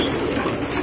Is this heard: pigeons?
yes